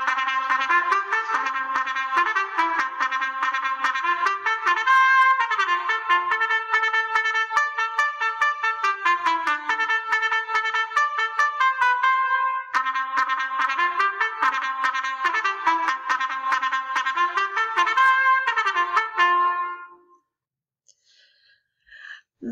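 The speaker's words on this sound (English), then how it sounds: "The trumpet sounds like this." A trumpet plays a bright melodic line of short detached notes and quick runs, steady and moderately loud, with nothing else in between, before it stops and leaves near silence.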